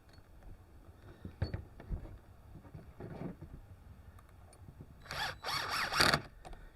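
A power tool tightens nuts on fender flares of a 2023 Kawasaki Teryx4 ATV, with several short buzzing bursts near the end after quieter clicks and handling noises.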